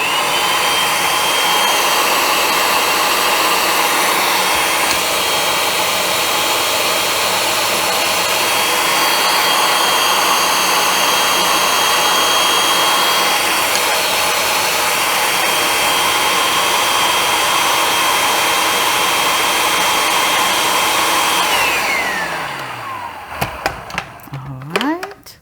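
Food processor kneading roti dough, a loud steady motor whir that runs continuously for about 22 seconds before winding down and stopping with a few knocks.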